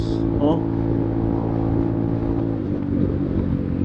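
A Vespa GTS 300 scooter fitted with a full Malossi exhaust, accelerating hard while overtaking on the road, its engine droning loud and steady over wind noise, with a voice speaking over it.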